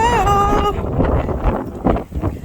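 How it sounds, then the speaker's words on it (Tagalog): Strong wind roars and buffets the microphone in gusts, a tonal whine fading early on, with bursts of rushing noise throughout. Typhoon winds while hiking on Mount Butler. "Ang lakas ng hangin!"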